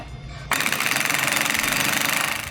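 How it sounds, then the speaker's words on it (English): An impact wrench drives a wheel stud in on a Fox Body 5-lug swap, bursting into a loud, close, rapid hammering rattle that runs steadily for about two seconds. "Hit it with an impact."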